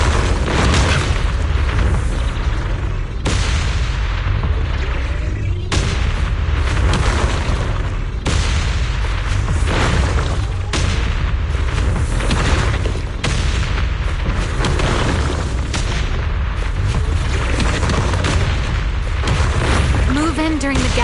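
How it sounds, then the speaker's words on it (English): Explosions in the video game Zenless Zone Zero: continuous heavy booms and rumbling blasts pound one after another, dense and loud, with a voice speaking underneath. "Move in during the gaps between explosions."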